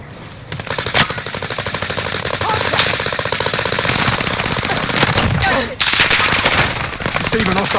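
Sustained automatic gunfire in a video game, with rapid dense bursts of shots running almost continuously, loud and close, with a brief gap before firing resumes.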